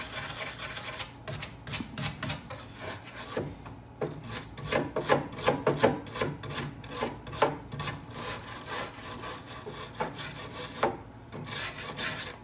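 A wire brush is scrubbed back and forth over a part in the engine bay of a Pinto, making rapid, raspy, rhythmic strokes close by in uneven bursts with short pauses between them.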